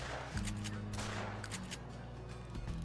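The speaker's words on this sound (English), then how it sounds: "next time you take a shot with your shotgun, you press F" Sharp shotgun reports with tracer rounds, fired during a pheasant hunt in a hunting game, crack several times in quick succession over low background music, each blast brief and fairly close.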